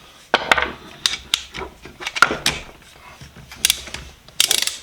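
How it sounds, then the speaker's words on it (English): A ratcheting handle from a flea market haul clicks in short bursts of sharp mechanical pawl ticks, close and fairly quiet, with brief pauses between each run of clicks. "So it's ratcheting handle."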